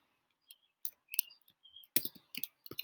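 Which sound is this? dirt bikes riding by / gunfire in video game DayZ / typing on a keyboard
typing on a keyboard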